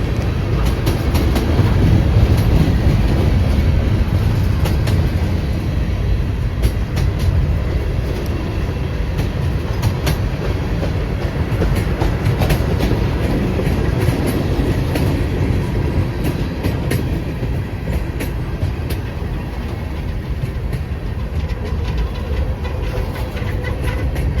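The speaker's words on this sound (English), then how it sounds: "M604 is a manifest. It's manifest 604, headed from Waycross, Georgia to Winston" CSX manifest freight train M604, bound from Waycross, Georgia toward Winston Yard in Florida, rumbles past up close with a steady, loud roll of wheels and faint clickety-clack at rail joints throughout.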